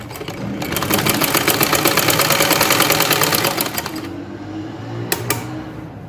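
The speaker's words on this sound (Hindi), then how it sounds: "अब हमने इसको सिलाई लगानी है।" A sewing machine stitches fabric for a kameez hem in a fast, steady mechanical rattle that runs loud for about four seconds, then stops, followed by a few faint clicks.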